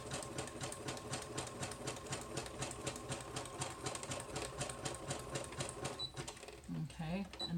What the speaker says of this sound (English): this sewing machine even cuts the thread for me